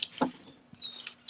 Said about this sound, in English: Can y'all hear all of my birdies chirping?